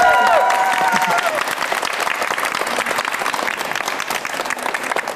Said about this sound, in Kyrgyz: Анда бир күйөө балага катуураак кол чаап коелу.